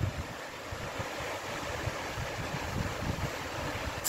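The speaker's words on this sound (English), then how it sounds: "in the river, and it is again flowing very nicely here" The River Roch running through Heywood in winter, a steady broadband rush of flowing water past a fallen tree, continuous and fairly close with slight wind buffeting and no voices.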